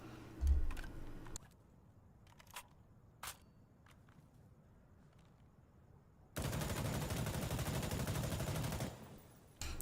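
An Mk18 rifle fires in the shooter game Insurgency Sandstorm: a few sharp single shots early on, then a long unbroken stretch of rapid automatic fire lasting about three seconds, with quiet gaps between.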